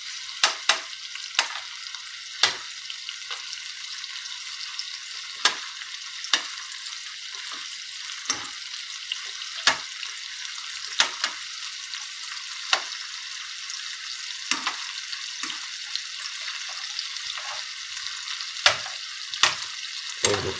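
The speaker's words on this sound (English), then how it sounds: "I have to keep flipping them sometimes, time to time." Shrimp frying in a pan for a seafood boil, a steady bright sizzle with sharp clacks and scrapes as the pieces are flipped at irregular moments throughout, no voices.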